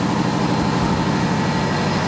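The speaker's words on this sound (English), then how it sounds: "Start the engine. Right there it is." A large air-started engine at a public works facility runs steadily after starting, a loud, close, continuous low throbbing drone with a constant hum and no talk over it.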